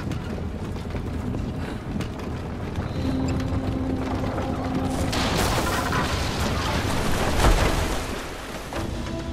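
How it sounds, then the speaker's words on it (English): A big explosion in the video game Rise of the Tomb Raider rumbles through a heavy, noisy game soundscape, swelling into a broad roaring blast midway with a louder thump near the end. "Cause another big explosion."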